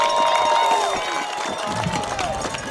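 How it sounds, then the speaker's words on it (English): A high school football crowd at Carl Albert vs Guthrie roars steadily and loudly, with shouting and whistle-like tones mixed in over a dense wall of cheering. "So the crowd's going to get into this."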